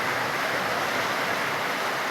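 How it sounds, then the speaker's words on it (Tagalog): Strong floodwater rushes past homes in a flooded village in Sultan Kudarat, a loud, steady, broad roar that never lets up, with no voices heard. "Ayan yung tubig, oh. Napakalakas ng tubig."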